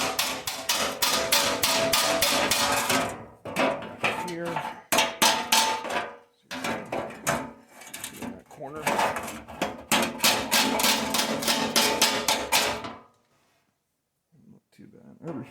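Repeated hammer blows on the bent metal engine shroud of a Cub Cadet 1882 garden tractor being restored, loud close bursts of rapid strikes separated by short pauses, ending in near silence.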